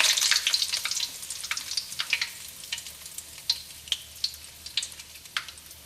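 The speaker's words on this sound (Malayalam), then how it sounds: "നമുക്കിതിലേക്ക് വേപ്പിൻ്റെ ഇല ഇട്ടിട്ടൊന്ന് പൊട്ടിക്കാം." Curry leaves spluttering in hot oil for fish pickle: a continuous close sizzle broken by sharp, irregular crackling pops that grow sparser toward the end, with no talking.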